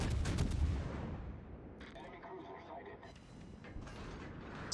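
Heavy naval guns thunder in a World of Warships battle, a loud booming salvo at the start fading into rumbling ambience with mechanical clatter, while someone talks over it.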